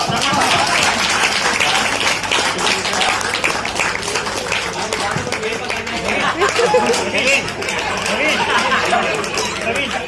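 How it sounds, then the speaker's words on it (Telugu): A crowd applauding at a company's fifth anniversary felicitation event, steady dense clapping mixed with loud chatter and voices throughout, close and continuous. "చప్పట్లో"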